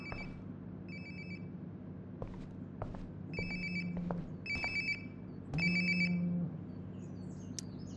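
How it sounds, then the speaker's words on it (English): A cell phone rings in the video game Life is Strange Before the Storm: a series of short electronic ringtone chirps repeats at a steady pace over a low room ambience, with a slightly louder burst near the middle. "Sounds like my phone is definitely nearby."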